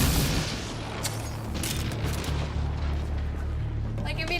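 Enemy gunfire in Mass Effect Andromeda, a dense rumbling barrage with scattered sharp bursts over a low booming bed, steady and loud throughout.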